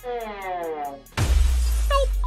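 A glass door shatters in a sudden loud crash at a failed opening attempt, the sharp break followed by a dense spray of falling shards, after a stretch of steady tonal sound and a brief lull.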